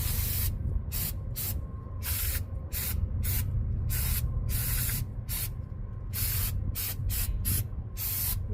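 Brake cleaner sprayed from an aerosol can while working on brake shoes, loud close hissing bursts of varying length in a steady irregular rhythm over a low background hum.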